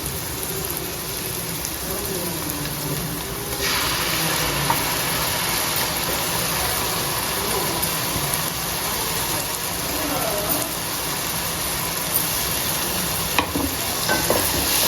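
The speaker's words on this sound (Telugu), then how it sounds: "పచ్చివాసన పోయేదాకా మంచిగా వేయించుకోవాలి." Onion and tomato paste frying in oil for a korameenu fish curry, a steady loud sizzle throughout with occasional stirring scrapes in the pan, no one talking over it.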